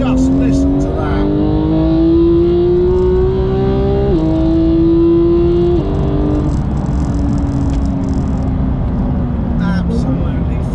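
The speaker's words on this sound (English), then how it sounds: "I never get bored of that engine. What a fabulous engine that is. Just listen to that." A Porsche 911 GT3 (991.2 or 992) flat-six engine revs loudly and close from inside the car, climbing through the rev range with brief dips at upshifts, a sustained high-pitched howl dominating throughout.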